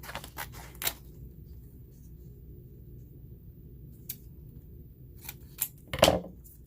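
Scissors snipping EasySubli transfer tape, a few sharp close clicks and cuts at the start and again near the end, separated by a quiet stretch with a low background hum.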